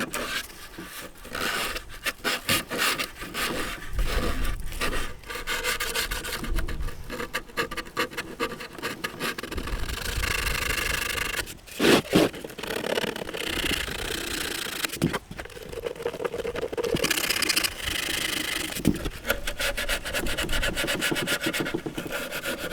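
An oak bell colt being sanded, a continuous close abrasive rubbing and rasping on wood with brief pauses and shifts in stroke.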